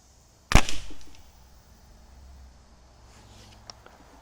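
A Diana 350 Magnum air rifle fires a pellet with one sharp, close crack and a brief springy thud that fades quickly into quiet room noise, followed by faint small clicks.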